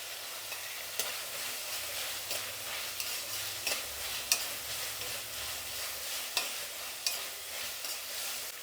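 Green chillies and onions fry in hot oil in a pan, giving a continuous soft sizzle. Occasional sharp clicks of a spoon stirring punctuate it, close and fairly quiet, with no voices.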